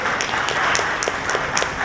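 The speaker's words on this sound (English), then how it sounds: "I think we have a round of applause for that for the Minister, sir." An audience applauds the Union Minister of Steel at a conference event, a brief burst of dense clapping with a few sharper individual claps standing out.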